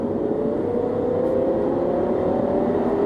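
Mini E electric car accelerating in green mode gives off a steady rising whine over road and motor hum, smooth and continuous with no voices.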